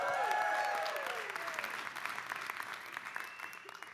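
Comedy show audience applauding in a dense burst that starts loud, then thins and fades over a few seconds, with some cheering and whooping mixed in.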